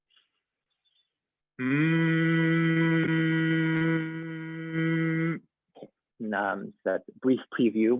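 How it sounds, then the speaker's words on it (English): A person hums with ears plugged as a breathing exercise, one long steady internal hum of nearly four seconds, close and loud, then a few words spoken afterward. "and then it's an internal hum."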